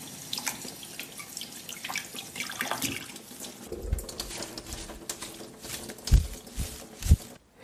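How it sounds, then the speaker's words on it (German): Wild herbs rinsed under a running kitchen tap, water streaming and splashing steadily with a few louder drips and splats toward the end, close and clear. "Am besten ihr bereitet als erstes die Kräuter vor. Alle waschen und ein bisschen trocken schütteln."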